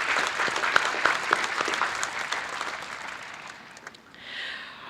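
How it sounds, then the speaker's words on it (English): Graduation audience at a 2020 high school ceremony gives a round of applause, dense sustained clapping that fades toward the end as a brief higher hiss rises. "Can we please give them a round of applause for their efforts and the work that they do?"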